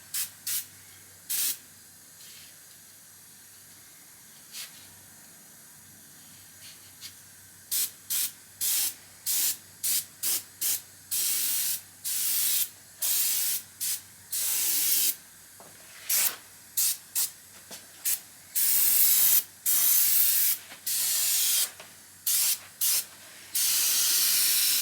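Short hissing bursts from a spray gun applying a first coat of paint to Porsche 928 door panels, sprays growing longer and more frequent, close against a faint background hum.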